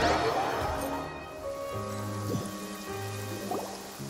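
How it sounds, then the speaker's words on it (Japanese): Rain falls in the video game Genshin Impact, a steady soft patter across the whole stretch beneath sustained musical tones and a few plucked notes, with no speech. "そういえばここ数日ずっと雨が止んでないもんね"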